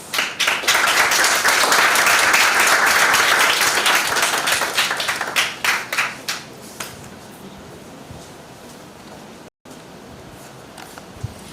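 Loud applause from an audience at a high school debating competition, building briefly and then thinning into scattered claps that fade into room quiet.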